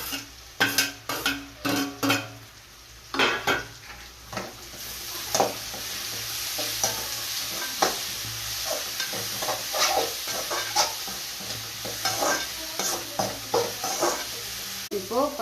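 Pounded ingredients are stirred into onions frying in a pan while tapioca is cooked in milk. A spoon scrapes and stirs in irregular strokes over a steady low sizzle, close and fairly loud, with no talk.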